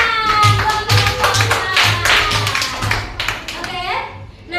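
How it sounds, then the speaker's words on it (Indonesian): Rhythmic group clapping in a classroom for a student group, steady beats repeating about twice a second, with children's voices and chatter mixed throughout. "Tepuk tangan buat kelompok"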